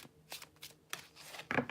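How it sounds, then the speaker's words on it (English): Tarot cards are shuffled by hand in a quiet room, a few short papery riffles and slides in quick bursts, close and soft. "I always have a problem with shuffling cards."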